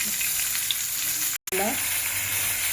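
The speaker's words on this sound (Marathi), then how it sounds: "याच्यात टमाटे टाकते जरा" Tomatoes tipped into a hot pan of aubergine curry, giving a steady close frying sizzle with a brief dropout as they land and a soft stir afterward.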